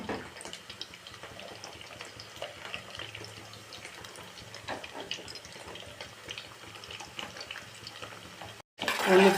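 Sliced onions deep frying in hot oil in a bowl, a steady bubbling sizzle with soft crackles throughout, close and moderately loud, ending in a brief gap and a louder clatter.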